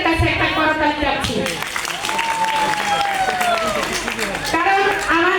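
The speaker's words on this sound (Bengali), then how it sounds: "আমি আমার হাজব্যান্ডের জন্য আপনাদের প্রত্যেকের কাছে একটা করতালি চাচ্ছি।" An audience claps for a woman's husband at a public event, a dense patter of applause mixed with voices talking and calling throughout.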